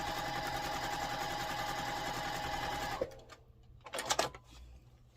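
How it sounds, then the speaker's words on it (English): A sewing machine stitches a 1/4 inch quilt seam in a rapid, steady mechanical chatter, then stops abruptly, leaving a few soft handling clicks and rustles. "Just lay them right sides together and sew a 1/4 inch seam."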